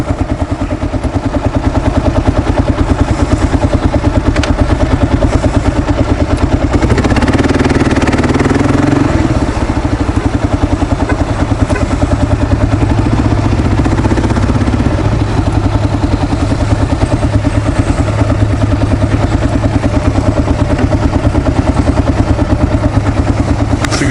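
A Kawasaki KLR 650 single-cylinder motorcycle engine runs for a long stretch, a loud, steady thumping drone with rumbling and wind buffeting from riding across a parking lot, no talking.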